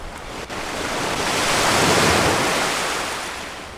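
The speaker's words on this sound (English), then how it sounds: "Like a big wave just came up over, and you hear the splash" A big wave washes over a ship's deck as a loud, broad rush of water that swells to a peak midway and then slowly eases off, with no voices.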